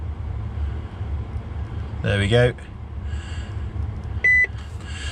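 A single short electronic beep from a 2009 Volvo dashboard sounds near the end after someone speaks briefly, with a low engine-like hum underneath.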